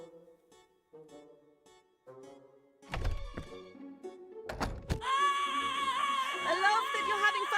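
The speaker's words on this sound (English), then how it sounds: "I love that you're having fun with our doorbell" A doorbell in the video game Prim, heard after several soft thunks and clunks: a bright, sustained ringing chime that swells in and keeps sounding loudly to the end, with no speech over it.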